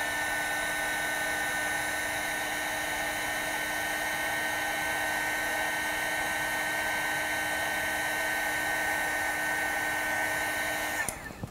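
A hair dryer drying a pink rosebud painting, running as a steady, constant whine with an even airy hiss for about eleven seconds, close and loud, then cutting off at the end.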